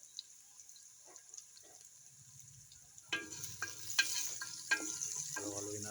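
Pork frying in a pan, a quiet low sizzle for the first few seconds, then a louder crackling burst with scraping and clattering stir strokes as the meat is turned.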